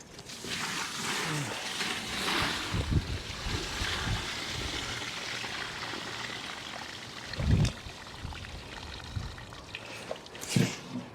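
Collected rainwater tipped out onto the ground at an outdoor allotment after storms, a rushing, splashing pour lasting several seconds, with a few louder sloshes and thuds near the end.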